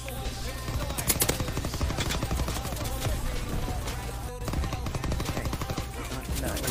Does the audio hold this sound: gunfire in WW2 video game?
yes